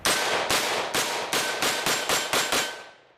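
Rifle gunfire from .223 and .308 cartridges, a rapid string of about nine loud, sharp reports in even succession, each trailing into the next, ending in a fading ring.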